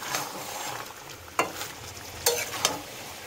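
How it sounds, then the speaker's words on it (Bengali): Marinated chicken sautéing in a pan for Kolkata-style chicken biryani, a steady close sizzle with a few sharp scrapes and clinks of stirring. "মাংসটা ভালো করে কষিয়ে নেব।"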